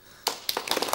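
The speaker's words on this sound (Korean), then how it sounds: "많은 박수로 맞이해 주시면 대단히 고맙겠습니다" A studio audience on a 1986 Korean television talk show welcomes a nun as a guest. Applause begins abruptly with a few sharp, close claps and then builds into a loose patter of hands.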